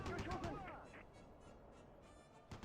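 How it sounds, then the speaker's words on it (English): Heavy machine guns firing in the war game Close Combat 3, a dense burst of rapid, loud shots at the start that fades into a rumbling battlefield background, with another sharp report at the end. "we will let loose with the heavy machine guns"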